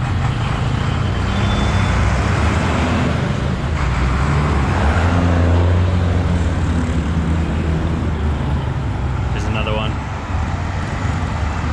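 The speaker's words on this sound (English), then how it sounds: "And check out the chicken buses. These things are so sick." Road traffic beside a lake in Guatemala, with continuous loud engine and tire rumble from passing vehicles, likely chicken buses, and a heavy passing swell in the middle; a voice speaks over it.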